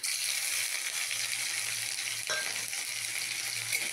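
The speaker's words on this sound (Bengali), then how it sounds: "তার সাথে দেবো জিরে আর থেতো করা আদা" Cumin seeds and crushed ginger fry in a small amount of oil for greens, giving a steady close sizzle with fine crackle throughout and a brief clink partway.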